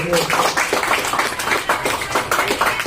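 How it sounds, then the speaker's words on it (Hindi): Clapping from school staff at a farewell ceremony, a steady patter of hands filling the room with voices mixed in. "एक बार जोरदार तालियों से हमारे जो"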